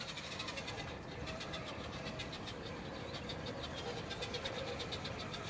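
Cheap brushed motor in an RC crawler driven by an Injora ESC, running with a steady whirring buzz and rapid pulsing texture, faint and continuous.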